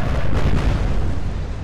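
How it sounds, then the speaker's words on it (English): A warship's gun salvo in the naval video game Atlantic Fleet: one heavy, loud, rumbling boom that fills the whole moment and slowly rolls off, with no voices. "Good salvo, that one."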